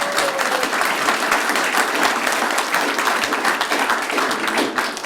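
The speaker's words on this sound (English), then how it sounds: "Let's give them a huge round of applause." Dense, steady applause from a large audience at the Royal Rehab Wall of Fame 2023 event, filling the whole stretch loudly and evenly with no voices over it.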